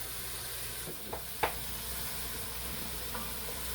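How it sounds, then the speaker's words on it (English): Ground beef browns in a pan for spaghetti sauce, giving a steady, moderate sizzle and hiss, with a couple of faint scraping stir sounds. "I'm browning the beef"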